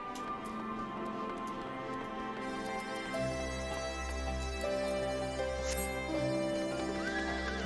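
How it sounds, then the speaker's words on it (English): A horse in the video game Final Fantasy XIV neighs over a layered in-game music and ambience bed, with no talk. "Let me get on my horse."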